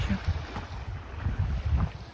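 Strong wind buffets the microphone on the coast near Brégançon, low rumbling gusts pulsing unevenly and filling the lower range, with faint surf-like noise behind.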